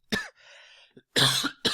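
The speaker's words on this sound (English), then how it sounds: "You still got a little bit of that residual cough or anything?" Two sharp, close coughs with a brief wheezy breath between them, then a short final cough.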